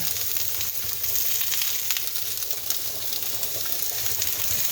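Peppers fry with garlic in a hot pan, giving a loud, continuous sizzle that stays even throughout with faint stirring scrapes and no talking.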